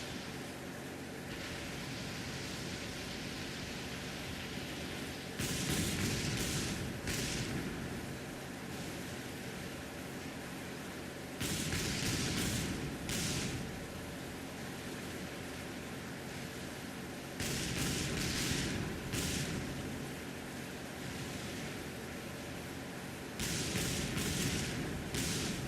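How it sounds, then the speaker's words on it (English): In the Battlestations Midway video game, naval ships fire on an enemy vessel, with bursts of booming gunfire recurring every few seconds over a constant faint noisy hiss. "A unit with an attack order will circle the enemy, firing until it sinks."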